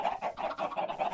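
Chickens in a modded Minecraft game cluck in a quick, steady series of short, close bursts, with no talking over them.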